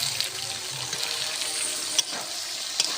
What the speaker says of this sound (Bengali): পটলটা অর্ধেক ভাজা হয়ে গেছে, এর মধ্যে কাঁঠালের বীজ আর আলুটা দিয়ে দেব।